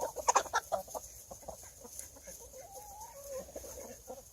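Chickens cluck and squawk close by while pecking at sunflower sprouts, with a quick flurry of sharp clucks at first, then softer scattered calls and a rising warble over quiet background.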